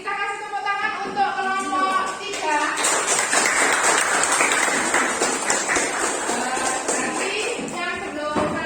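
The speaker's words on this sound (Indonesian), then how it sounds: "Kita kasih tepuk tangan untuk kelompok 3" Classroom applause for a student group: many hands clapping together in a dense, sustained patter that swells and stays steady for several seconds, close and fairly loud, with a voice speaking briefly over the start.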